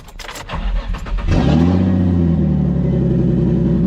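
A Nissan 350Z sports car engine cranks briefly on a cold start, then catches and roars into a loud, steady idle with a deep rumble. It is close and nobody speaks.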